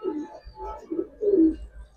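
Giribaz pigeons of the Palla line, kept for sale, give close, soft repeated coos in a low rolling rhythm, several calls in quick succession with no talking.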